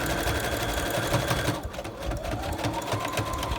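A sewing machine runs steadily in a zigzag stitch through fabric for a medical mask, a continuous close mechanical whir with a fast rapid-fire needle rhythm and no pauses.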